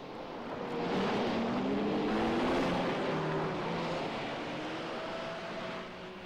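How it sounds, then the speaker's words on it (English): A car's engine with a clutch fan roaring loudly and steadily, rising in the first second and holding a broad whooshing drone with faint shifting tones before easing slightly near the end. "You hear that clutch fan going wild."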